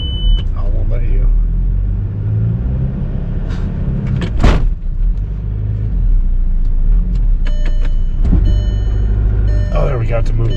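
A 2004 Volkswagen Passat TDI with a broken turbo is revved hard in neutral, its loud diesel engine droning and surging up close, with a sharp clunk midway and people talking over it.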